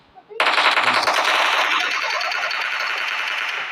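Sustained automatic gunfire in the mobile game PUBG Mobile, a loud continuous burst that starts abruptly after a couple of faint taps and rattles on evenly to the end.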